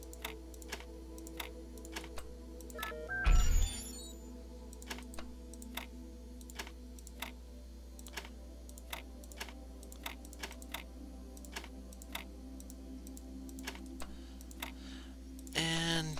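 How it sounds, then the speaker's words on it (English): A computer mouse clicking in the puzzle game Sigils of Elohim: sharp, evenly spaced clicks over a low steady background hum, with a brief louder burst early on and another cluster at the end. "I think you can hear my mouse clicking in the video"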